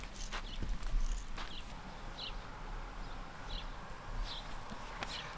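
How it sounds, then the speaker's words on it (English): Horses walk outdoors with a soft, uneven clip-clop of hooves over steady background noise, a few faint bird chirps scattered above. "let's have a moment with these horses"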